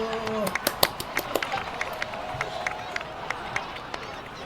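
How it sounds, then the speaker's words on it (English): A small crowd claps and cheers in a Genshin Impact game scene, with sharp, scattered hand claps of moderate loudness over a low murmur of voices. "please give another round of applause for them"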